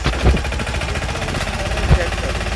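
A tractor pulling a five-tine implement with tines spaced six inches apart rumbles close by in an onion seed field, its engine chugging loud and steady, with two heavier thumps.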